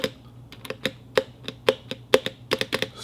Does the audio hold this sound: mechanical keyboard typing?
yes